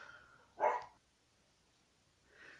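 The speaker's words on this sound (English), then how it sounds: "I hope you can't hear the dogs anymore. They're not my dogs." A dog barks once outside, muffled and fairly distant, followed by a faint second sound near the end in an otherwise quiet room.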